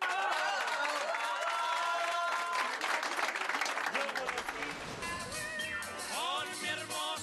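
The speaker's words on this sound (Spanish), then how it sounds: "¡Un aplauso a la pareja del año!" A studio audience on a Chilean TV show claps and cheers for a couple, loud continuous applause with whoops, as music and a voice come in over it in the second half.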